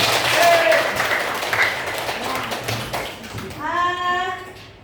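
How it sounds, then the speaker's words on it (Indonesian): Classroom students clapping together, a brief burst of hands early on that fades under chatter, with a teacher's voice and a high sung or called tone near the end. "Tepuk tangan dulu teman-teman."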